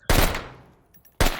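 A Volk rifle in a first-person shooter fires two bursts of automatic gunfire. A loud, close opening spray fades out, then a second burst starts near the end.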